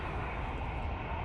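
A Boeing 777-300ER jet roars past on a windy day at Manchester Airport, a dense, steady engine rumble with broadband whoosh, fairly loud and uninterrupted for a brief moment.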